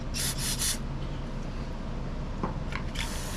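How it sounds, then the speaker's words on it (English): Short hissing bursts of aerosol cleaner are sprayed through the jets and inlet of a pressure washer carburetor, three quick pulses at the start and another near the end, over faint background hiss. "I'm gonna go ahead and spray all down through these jets, through the inlet, through the whole unit, and just get it completely clean."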